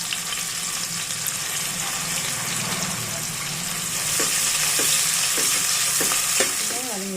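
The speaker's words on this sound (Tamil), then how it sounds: "கூடவே பச்சை மிளகாய் போட்டு வெங்காயம் நல்லா வதக்கி விடுங்க" Onions with green chillies sauté in oil after fennel seeds crackle, for egg biryani: a continuous close sizzle with rhythmic spatula scrapes and taps growing busier toward the end.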